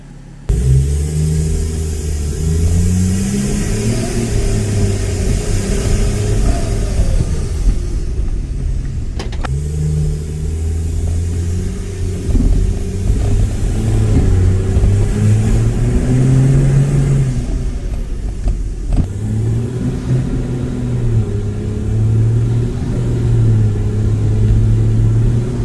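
A VW Crafter van fitted with a BMW M57 diesel engine and 8HP70 automatic gearbox drives around the block, its engine droning steadily with repeated rises in pitch as it accelerates through the gears, heard from inside the cab.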